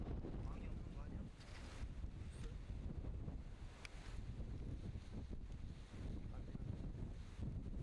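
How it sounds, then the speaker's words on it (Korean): Wind blows around springtime beehives on a rough inspection day as a constant, gusty rush with microphone buffeting, fairly loud and unbroken, with a few faint knocks underneath. "바람 부는 거 보십시오."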